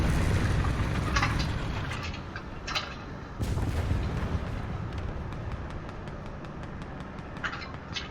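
Leopard 1 tank cannon shots in the War Thunder video game, heavy booming blasts over a dense battle rumble, with loud reports near the start and around the middle and a steady din of distant fire between them.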